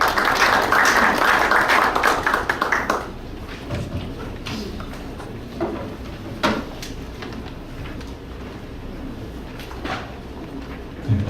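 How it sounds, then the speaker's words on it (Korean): An audience at a startup investment showcase welcomes a presenter with dense applause that fills the first few seconds, then thins to a few scattered claps and small room noises. "큰 박수로 맞이해 주시기 바랍니다."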